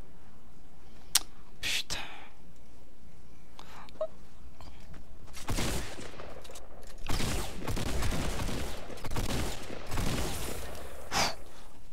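Bullets and rockets fly in a Fortnite match: scattered sharp shots early, then louder bursts of rapid fire and blasts, with a gasping, whispering voice over parts of it.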